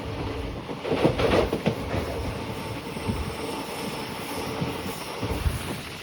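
The Chamarajanagar-Mysore-Tirupati Express rolls along, a continuous rumbling rail noise with faint rhythmic clatter, steady and fairly close.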